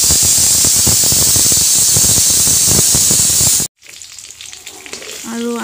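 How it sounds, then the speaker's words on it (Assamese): Fish fry in a pan with a loud, close, crackling sizzle full of rapid pops for several seconds, then it cuts abruptly to quieter room sound with faint clatter and a brief squealing tone. "আৰু আনফালে মই মাছ ভাজি আছোঁ।"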